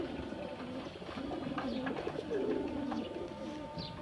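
A pigeon coos steadily in low, rolling, throaty phrases close by, with faint ambient noise and no speech.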